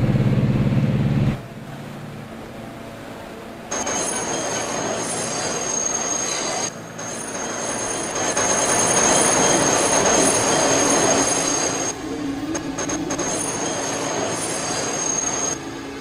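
An R160B subway train on the N local run from 96 Street to Coney Island in Transit City 3 rumbles loudly along the track, its wheels squealing and the roar rising and falling as it moves, with no talk.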